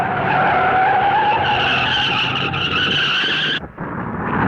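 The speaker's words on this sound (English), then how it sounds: "Yarborough's lost control." Stock car skidding out of control during the 1970 Southern 500 NASCAR race, a loud sustained tire squeal with racing engine roar that cuts off abruptly before the engine noise returns.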